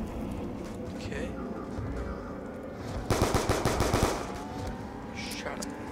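Rapid automatic gunfire in a zombies video game: a loud burst of about a dozen shots lasting around a second, set against busy game noise, with a few fainter shots around it and a player talking throughout.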